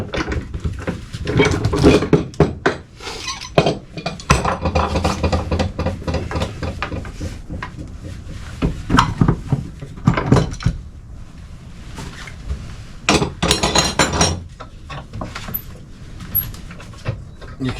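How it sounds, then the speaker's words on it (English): Clamps and a 2x4 come off a yacht deck during a composite recoring job, giving irregular clunks, knocks and scraping thuds at close range. Brief bursts sit between quieter moments. "let's start by pulling the clamping off"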